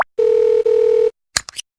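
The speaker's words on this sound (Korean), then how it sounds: "발걸음을 돌리며 답답한 마음에 남편에게 전화를 걸어봅니다" A telephone dial tone heard while placing a call to a spouse: a loud, steady tone with a short break in the middle, then a few brief electronic blips.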